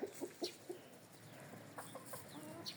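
Several hens cluck softly nearby in short, scattered bursts, with low background noise and no talking.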